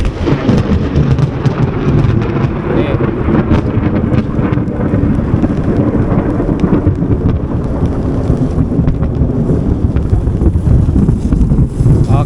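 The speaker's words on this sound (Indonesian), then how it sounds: "Teman-teman sudah lihat sendiri, sudah ada halilintar di sini." Heavy thunder rumbles continuously through a rainstorm beside a swollen river and rice field in Indonesia, loud and close, with rain hiss and wind buffeting the microphone throughout.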